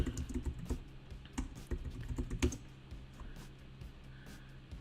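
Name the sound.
typing on a computer keyboard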